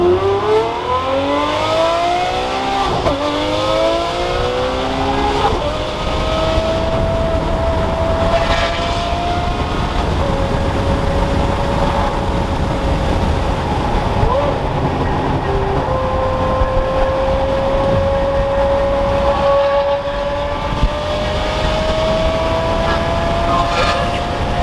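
Straight-piped Ferrari 599 with a titanium valved exhaust under way on the road, a loud continuous engine drone rising and shifting in pitch through the gears, heard from inside the car with some voices mixed in.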